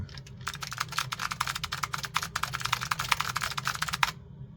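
Rapid, clicky keystrokes on an Alps mechanical keyboard of an Apple IIc, steady and close, continuing for several seconds before stopping.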